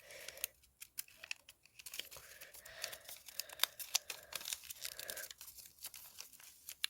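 Sheets of paper being folded into a Dragon Water paper blade: close, quiet crinkling and crisp rustles in irregular bursts, with small taps and creasing scrapes and no other sound.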